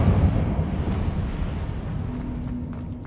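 An Incendio fire spell is cast in Hogwarts Legacy, a loud, close roaring whoosh of flame that starts strong and slowly thins out over about three seconds, with no voices.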